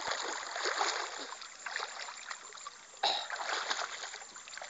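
Water splashes and sloshes steadily, close by, as someone swims in waist-deep water in a village in Gadchiroli District, Maharashtra, with a sharper splash near the end; no voices.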